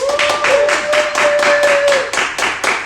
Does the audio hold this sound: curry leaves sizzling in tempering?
no